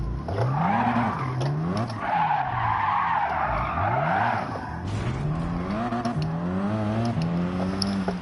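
Tires squealing as a car skids under handbrake in the racing game Gran Turismo 7, with wavering, swooping squeals over engine tone, loud and continuous with brief breaks.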